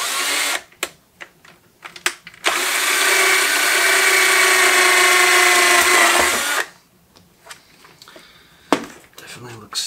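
A power drill whirs for a few seconds, bracketed by clicks and handling noises before and after.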